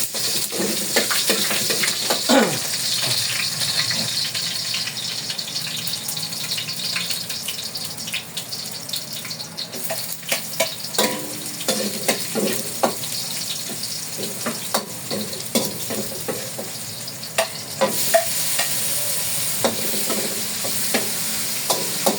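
Garlic sizzles and crackles in a hot pan as it is sautéed and stirred, a steady loud frying hiss with scraping stirs and occasional pops throughout, no talking.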